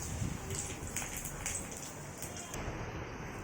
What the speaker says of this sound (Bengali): আর আমি এখানে একটু সাবুর পাঁপড় ভেজে নিচ্ছি।